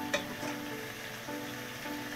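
Water splashes into a hot pan of frying eggplant and onion curry, a short pour at the start that brings up a soft, steady sizzle and bubbling, quiet and close, with no voices.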